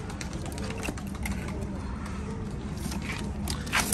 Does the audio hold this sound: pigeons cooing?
yes